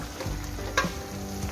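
Dhokli pieces being stirred in a pot of boiling water for a Gujarati dhokli shaak, a soft scraping stir with a brief clink near the middle over a steady bubbling hiss.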